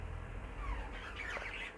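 Cock bird in a cage bird show setting giving a few faint squawks and chirps, quiet and close, over low background room noise.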